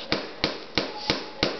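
A hammer drives nails into wood while a birdhouse is built, striking five times in a steady, evenly spaced rhythm, close and crisp.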